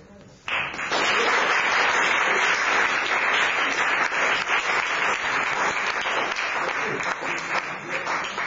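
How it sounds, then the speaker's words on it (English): After a brief quiet moment, an audience bursts into warm applause for performer Paul Alster, steady dense clapping that sustains loudly to the end. "a warm round of applause, please, for the magnificent Paul Alster."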